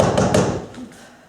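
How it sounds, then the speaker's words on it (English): Knocking on a door in a staged Macbeth scene: two quick, sharp raps close together, followed by a duller thud, then the sound fades away into quiet. "I hear a knock in the south entry."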